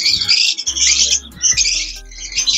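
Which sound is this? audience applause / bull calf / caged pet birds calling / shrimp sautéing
caged pet birds calling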